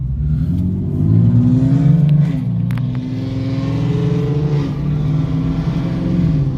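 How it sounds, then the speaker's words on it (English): A drift-built Camaro engine revs nearby, producing a loud, sustained, throaty drone whose pitch climbs and dips as the throttle rises and eases, with a brief lift around the middle. "Is that a drift Camaro?"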